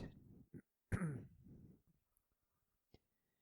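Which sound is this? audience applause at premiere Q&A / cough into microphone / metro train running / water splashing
cough into microphone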